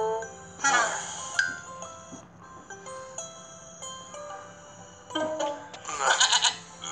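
Cartoon goat bleating in an animated children's Bible story, with short bleats set against light background music and chimes, louder bursts near the start and end.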